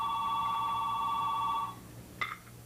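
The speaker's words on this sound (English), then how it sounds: "Well, I guess I better catch the phone." An old telephone bell rings in a 1951 home setting, one sustained metallic ring lasting nearly two seconds followed by a short second burst, loud and close with no talking.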